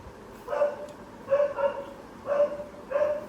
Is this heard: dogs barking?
yes